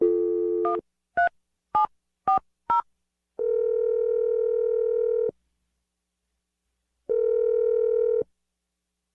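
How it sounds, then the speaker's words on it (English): A landline handset is dialed by hand: five short keypad beeps in quick succession, followed by two long, steady ringback tones separated by a silent gap, clear and close. "I'm going to dial the phone number right now"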